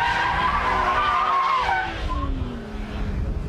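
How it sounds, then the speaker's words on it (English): A car power slides with its tyres skidding, giving a loud, sustained squeal that wavers and bends in pitch over the engine's roar, then eases slightly as the slide straightens. "We're happily power sliding, but too little power, and oh, it straightens up and goes the other way."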